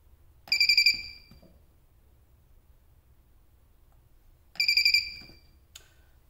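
A cheap PCB spot welder gives two short, high, pulsed electronic beeps about four seconds apart, each marking a weld, in an otherwise quiet room with no talking.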